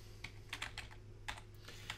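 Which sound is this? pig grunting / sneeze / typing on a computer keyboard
typing on a computer keyboard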